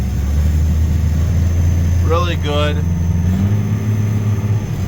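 A John Deere 9420 tractor engine runs with a deep, steady low rumble and a slight rise in pitch as it revs, close and loud while someone talks over it.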